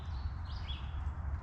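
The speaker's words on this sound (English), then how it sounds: "You can hear the birds." Birdsong at Cumberland Gap National Historic Park, a few faint chirps over a low outdoor rumble, distant and brief.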